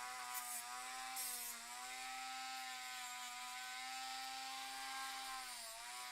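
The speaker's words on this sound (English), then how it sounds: "come back in with your other drill bit, and just kind of clean out the edges here" A drill bit cleaning out the edges of a plastic Dinosaur Warrior toy ankle part gives a steady, close, high whine that holds unbroken throughout, with a slight dip in pitch near the end.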